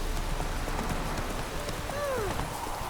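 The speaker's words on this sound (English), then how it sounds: "Run, Roach." Roach the horse galloping in The Witcher 3, a rapid rhythmic clip-clop of hooves over steady ambient noise, with a brief voice-like whinny or call partway through.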